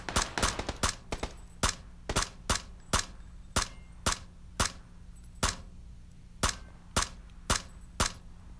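Rapid bursts of gunfire in the video game PUBG crack out in an irregular series, loud and sharp, with brief gaps between shots over a low steady hum.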